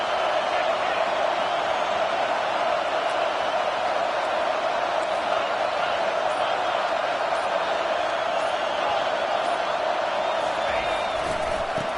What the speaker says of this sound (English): And this crowd coming to life here